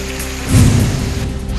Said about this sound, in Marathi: हिंगोली जिल्ह्यात ठिकठिकाणी अवकाळी पावसाला सुरुवात।